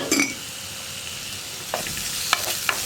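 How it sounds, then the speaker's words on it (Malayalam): Onions stirred in a frying pan with a little salt, a steady soft sizzle with a few sharp utensil scrapes and clinks near the end, close and alone. "ഈ സവോള ഒന്ന് ട്രാൻസ്പെറൻ്റ് ആയി വരുന്നത് വരെ ഇളക്കി കൊടുക്കുക."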